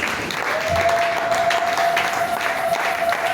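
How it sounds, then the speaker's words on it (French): A church congregation at a French-language worship service applauds in a dense, steady wash of clapping, joined by a held tone running underneath for most of the stretch. "Est-ce que nous pouvons acclamer le Seigneur?"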